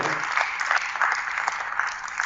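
Sustained applause from a church congregation, a dense even patter of many hands clapping together, fairly close and steady throughout.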